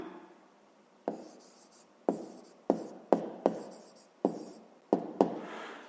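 Numbers are written by hand with pen on paper for a fifth-grade maths exercise, heard as a string of crisp, close scratching strokes that come in short irregular bursts with pauses between them.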